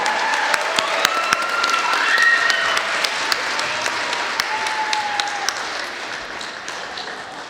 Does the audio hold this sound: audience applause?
yes